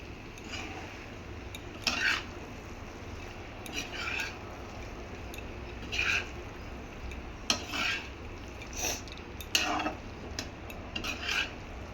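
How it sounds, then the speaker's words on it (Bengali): Meat being stir-fried (kosha) for a homemade keema-style dish, scraped and stirred in a pan with repeated clinks of a spatula against metal at irregular intervals over a low steady background. "এবার মাংসের সাথে কিছুটা আবার কষাবো।"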